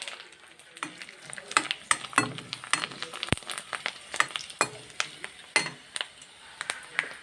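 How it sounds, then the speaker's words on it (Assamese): Ring papad frying in hot oil, a soft sizzle broken by frequent sharp clinks and scrapes of a utensil stirring in the pan, close by with no talking. "ৰিং পাপৰকেইটা ভাজা"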